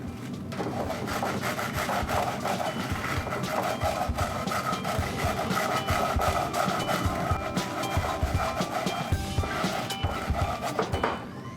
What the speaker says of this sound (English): We're gonna scrub it really hard for about 1 minute until we really get all of that grit off the surface